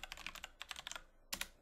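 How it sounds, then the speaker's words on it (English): Keys clack on a computer keyboard as a command is typed, three quick bursts of crisp taps separated by short pauses, close and quiet with nothing else heard. "we're going to type in node run localhost."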